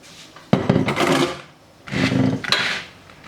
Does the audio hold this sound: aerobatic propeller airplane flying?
no